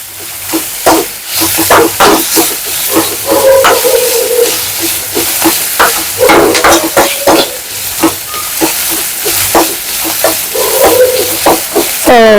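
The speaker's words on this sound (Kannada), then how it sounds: "ಇದು ಬಂದು ಬ್ರೌನ್ ಆಗೋವರೆಗೂ ಇದನ್ನ ಫ್ರೈ ಮಾಡ್ಕೊಳ್ಳಿ." Onions and a sprig of curry leaves fry in a pan until brown for chicken pepper fry, a loud, close crackling sizzle broken by frequent stirring scrapes and clinks throughout.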